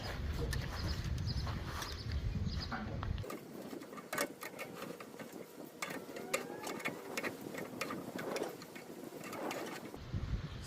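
The auger of a Pit Boss 700 Classic pellet grill is unscrewed from swollen, clogged wood pellets, making close, irregular crunching, scraping and rattling clicks with grinding friction over a faint background hum.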